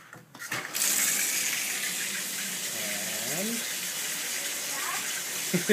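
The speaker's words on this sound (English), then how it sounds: "I'm going to turn the shower on." A bathroom shower is switched on with a click, and a loud, steady hiss of running water follows and carries on evenly. A brief spoken word comes near the start, and a few faint squeaks sit under the spray.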